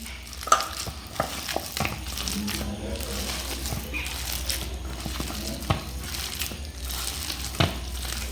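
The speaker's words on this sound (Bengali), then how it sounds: "এইরকম ঠেসে ঠেসে মাখতে হবে।" A kalmi greens pakora mixture is pressed and kneaded by hand, making repeated squelching, crunching squeezes in an irregular rhythm.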